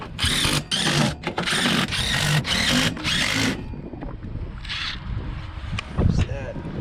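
A cordless drill drives screws into a York furnace heat exchanger panel in rapid close bursts, several whining runs back to back, followed by quieter clanking and brief talk.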